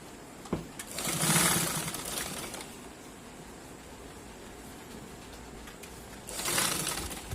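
A sewing machine stitches a cloth mask in two bursts of fast, whirring needle motor noise at the start and end, with a steadier low hum in between, fairly quiet and close.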